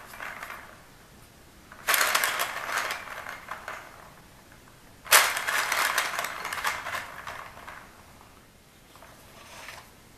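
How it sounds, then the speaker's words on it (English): Four homemade gears turn on a test run, giving two bursts of rattling, clattering mechanical noise of roughly three seconds each, separated by quiet, then a faint trailing rattle. "a little test run of the first four gears"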